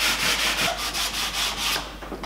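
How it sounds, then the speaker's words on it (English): Medium grade sandpaper rubbed by hand over a previously varnished piece of furniture, a light scuffing pass before chalk paint, making steady rhythmic back-and-forth scratchy strokes, close and fairly loud, with no talking. "just a light sanding with some medium grade sandpaper"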